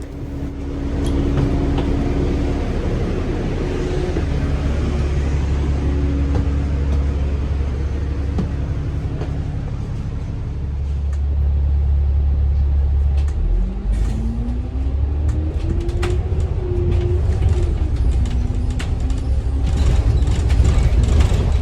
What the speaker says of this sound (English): So the double-deck bus that we are on was built by the company Alexander Dennis